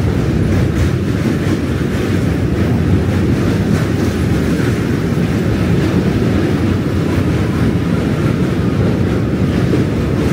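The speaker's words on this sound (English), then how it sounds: "Another train." A train rumbling past on a New York City commute, a steady loud roar of wheels and rail noise with faint rhythmic clatter, filling the whole stretch without a break.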